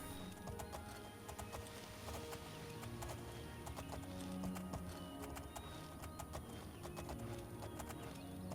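Horse hooves from the video game The Elder Scrolls IV: Oblivion clip-clop at a steady walking pace along a road, soft and slightly distant, over a constant ambient background.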